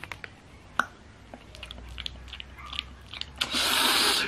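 Chewing and biting into a huge Costco doughnut topped with rocky road, close and intimate, with scattered soft crunches and mouth clicks before a louder rustling burst at the end.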